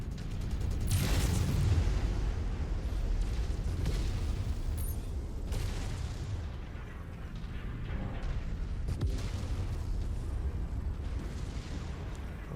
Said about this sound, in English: Somebody's throwing missiles.